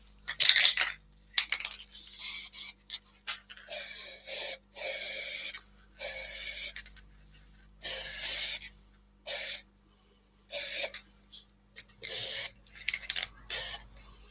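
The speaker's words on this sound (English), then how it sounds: "I'm just going to do the inside of this just with a quick spray of ebonizing lacquer" Short bursts of airbrush spray hiss as ebonizing lacquer goes onto the inside of a piece, about ten separate blasts with quiet gaps, close and fairly soft.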